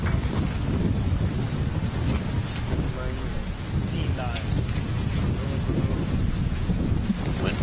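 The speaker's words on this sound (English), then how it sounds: "Wind picking up here in the booth." Wind gusts buffet a microphone in a commentary booth at an outdoor compound archery gold medal match, a steady low rumble covering the whole stretch with faint crowd and voice traces underneath.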